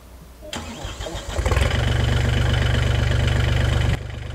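An MTZ-320 tractor engine cranks and catches, then settles into a loud, steady, rapid diesel idle before the sound cuts off abruptly.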